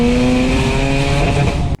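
Turbocharged Mazda RX-8 rotary engine through a Tomei titanium exhaust, held at high RPM in one loud, steady, buzzing rip that cuts off sharply at the end.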